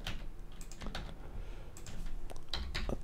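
Rapid typing on a computer keyboard while working in Blender, steady soft key clicks in quick bursts with a few louder taps, close and alone.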